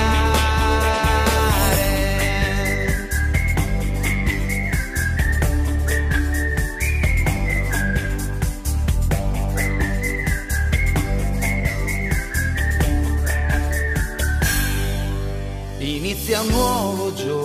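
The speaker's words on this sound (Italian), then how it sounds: "anche solo se con gioia sai fischiare" A bright, lilting whistled melody carries a song over a backing of steady instrumental music, loud and continuous, with short phrases repeating before the tune shifts near the end.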